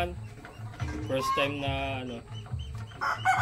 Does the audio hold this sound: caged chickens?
yes